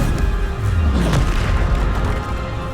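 Bombarda blasting spell detonating in Hogwarts Legacy, a loud, booming explosion with a deep low rumble and a crackling burst that holds steady across the moment.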